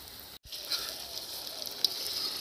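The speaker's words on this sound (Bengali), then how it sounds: "এখন আদা রসুন দিয়ে ভালো করে কষানো চলছে।" Ginger and garlic fry in a pan over a large, strongly burning outdoor stove at a village picnic, producing a steady, moderate hissing sizzle with a brief dropout and small crackles.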